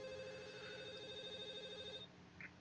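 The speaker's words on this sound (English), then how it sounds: "it becomes obvious that the sound's coming from her phone" A mobile phone rings with a steady warbling electronic tone in the visual novel Katawa Shoujo, soft and continuous, then cuts off abruptly near the end.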